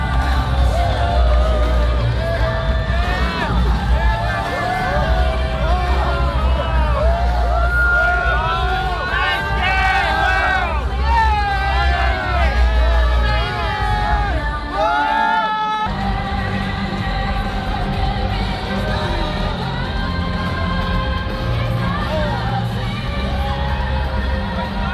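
An arena crowd at a fight event roaring, whooping and shouting after a win, loud dense babble with rising cheers, while an announcer's voice speaks over it.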